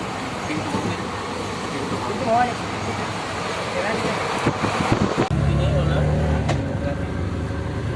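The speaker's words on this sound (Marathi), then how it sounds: "एक गाडी सुद्धा आली टॉ टॉ करीत गाडी पण आली" A bus pulls into Jalna bus station at midnight. Its low engine rumble grows stronger in the second half beneath nearby voices and general station noise.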